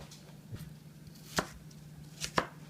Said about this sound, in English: we're just going to take and cut the apple in cubes as well